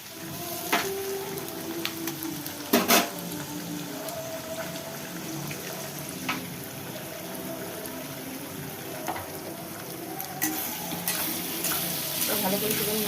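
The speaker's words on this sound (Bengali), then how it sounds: "ভালো করে একটু নাড়াচাড়া করে নেবো।" Egg and green chilli fry with vegetables in a hot pan for homemade chow mein: a continuous sizzle with scraping stirs and a few sharp clinks of the spatula against the pan, no talking.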